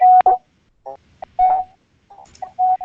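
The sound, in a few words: telephone keypad DTMF tone, dialing star 6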